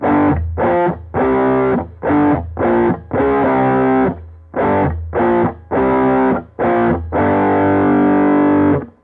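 Distorted electric guitar chords, palm-muted and chopped short, played in a tight rhythmic pattern with brief silences between the chunky bursts.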